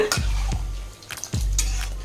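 A steady sizzling bubble of tamarind sauce for puliyotharai boiling in a pan, with a few scraping stirs and clinks across the short stretch.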